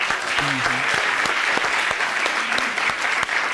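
Loud audience applause from a studio crowd, a dense, continuous patter of many hands with brief voice fragments rising through it.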